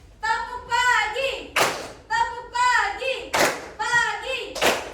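Children in a classroom at a vocational high school chant in unison and answer with sharp bursts of rhythmic hand claps, a call-and-response clapping game repeating in short grouped patterns.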